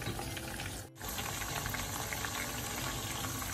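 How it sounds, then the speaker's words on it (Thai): Sun-dried pork frying in a pan, a loud, continuous crackling sizzle that briefly dips for a moment before carrying on steadily, with no talking. "เดี๋ยวแม่แต่จะมาทอดให้ดู"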